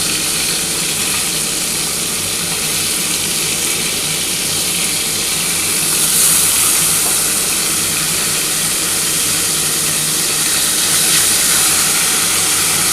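Pieces of bhola fish fry in hot oil with a steady, loud broadband sizzle and hiss that runs unbroken and swells slightly partway through.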